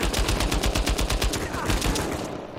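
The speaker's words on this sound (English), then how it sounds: "Who is shooting me from over there?" Rapid bursts of automatic gunfire in the action video game Uncharted 4, loud and close with a fast regular rhythm for about two seconds before tailing off.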